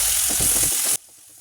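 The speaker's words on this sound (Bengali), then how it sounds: "এখন মশলাটাকে খুব ভালোভাবে কষিয়ে নিতে হবে।" Spice paste with red chilli powder frying in a pan, a loud close sizzle with stirring that cuts off abruptly to a quiet background just before the end.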